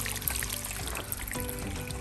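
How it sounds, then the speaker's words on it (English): Water pours and trickles steadily into a crawlspace beneath a garage sink during rain, a continuous close, moderately quiet flow with no voices. "there's a lot of water coming in through here"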